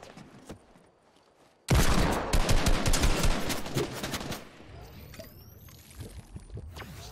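Sudden bursts of gunfire in a Fortnite tournament match, loud and dense for a few seconds before thinning out, with an excited commentator talking over them.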